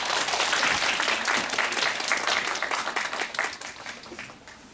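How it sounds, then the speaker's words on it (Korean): A lecture audience applauds after a talk at a mentoring workshop, a dense, steady wash of clapping that stays loud for several seconds before thinning and fading toward the end, with no talk over it. "다시 한번 큰 박수 부탁드립니다"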